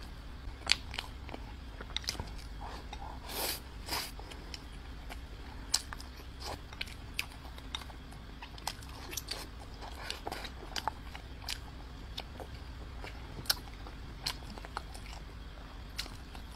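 Spicy braised pork ribs are chewed and bitten close to the mic, with sharp crunchy bites and wet chewing repeating at an irregular pace over a quiet background, with no talking.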